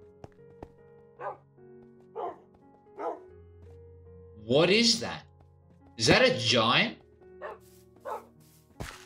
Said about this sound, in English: No, dogs, get away from him.